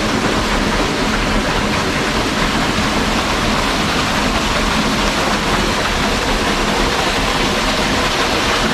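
Waterfall beside a campsite, a loud, unbroken broadband roar of falling water heard up close and filling everything with no other sounds standing out.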